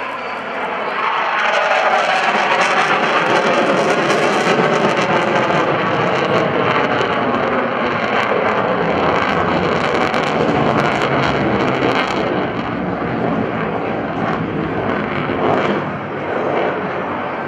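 An F/A-18F Super Hornet jet flies a square loop at an airshow at Naval Air Station Oceana, its engine roar loud and sustained throughout, broad and rushing, with a slight dip near the end.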